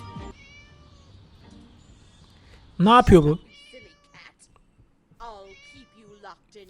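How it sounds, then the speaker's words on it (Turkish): A cat meows in the Scary Teacher video game, a loud wavering cry of about half a second up close, with a player's voice speaking briefly before and after it and some quieter game sounds. "Miyav sesine doğru gidiyor"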